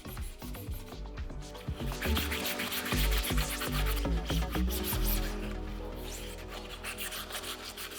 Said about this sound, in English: this can be smoothed very well with a 180 grit sandpaper